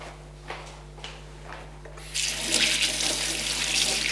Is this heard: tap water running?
yes